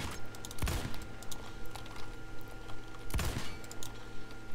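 Pistol shots in the Phantom Forces video game, two loud cracks a few seconds apart over a busy background of faint clicks and game noise.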